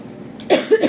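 A short, close cough comes in two or three rough bursts within a second, following a moment of quiet room tone.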